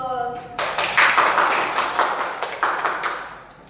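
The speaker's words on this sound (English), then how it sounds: "Okay, give applause." A classroom of students applauds after a group presentation, dense clapping starting abruptly and continuing steadily with uneven bursts before tapering slightly, some voices mixed in.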